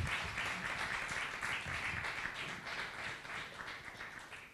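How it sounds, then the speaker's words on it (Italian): Applause for the maestro at a Chopin music academy concert, a steady, faint wash of many hands clapping that carries on evenly throughout without voices. "Un grande applauso al maestro ancora,"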